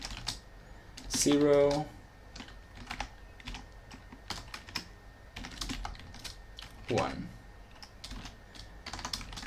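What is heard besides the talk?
typing on a computer keyboard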